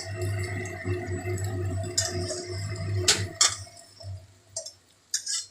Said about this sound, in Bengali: ওটা চিমনি চলছে, চিমনির আওয়াজ।